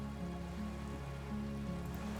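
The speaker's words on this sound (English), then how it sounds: "A drop of rain falls on a black log of an extinguished campfire." A single raindrop strikes the blackened log of an extinguished campfire in Disco Elysium, a soft patter heard against a steady low ambient hum with faint rain-like texture throughout.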